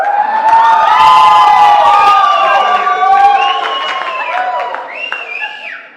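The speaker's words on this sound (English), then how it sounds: "otherwise I'm gonna forget how loud people cheer" A crowd cheers loudly during a live startup competition event, excited shouts and whoops layered over one another, sustained throughout and tapering off at the end.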